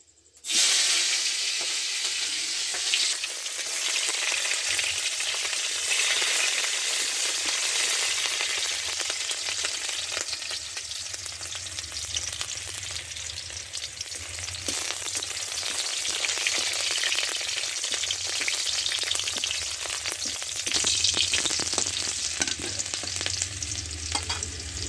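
Chopped onions with dried chillies fry in a hot pan, a dense, steady sizzle that fills the whole stretch with occasional stirring clatter and no voices.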